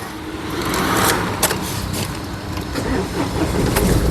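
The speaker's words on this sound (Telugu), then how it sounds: "సింగిల్ సెల్ఫ్లో కార్ స్టార్ట్ అవుతుంది ఎటువంటి స్టార్టింగ్ ట్రబుల్ అయితే లేదండి" A 2019 Mahindra TUV300 T6+ fires up on the first crank, its starter whirring briefly before the engine settles into a steady idle, recorded close by with no one speaking.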